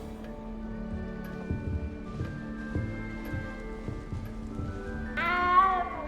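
A cat meows in the video game Hogwarts Legacy, a single drawn-out, wavering meow arriving near the end over a quiet ambient musical background.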